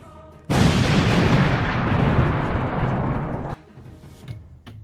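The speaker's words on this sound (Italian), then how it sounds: "Lo sparapatate caricato e adesso vediamo la distanza che potremmo fare." A homemade potato cannon, fired with hairspray as fuel, lets off one loud, sudden blast that roars for about three seconds and then cuts off, leaving scattered faint clatter.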